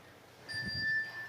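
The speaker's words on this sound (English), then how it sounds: "There's the bell." A bell rings once during an intermediate practice class, a thin sustained tone that stays steady for under a second in a quiet room, with a faint low murmur beside it.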